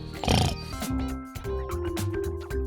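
A cartoon pig squeals and oinks in a short burst, followed by a higher, nasal, voice-like grunting over light music, close and fairly clear.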